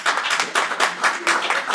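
Audience applauding at a Baldwin County commission meeting, a short burst of dense, bright clapping from a crowd indoors, with no talk over it.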